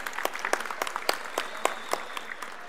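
Audience at a Maharashtra Kesari wrestling event applauding to welcome the deputy chief minister, with a thin, scattered clapping of distinct claps at a moderate distance.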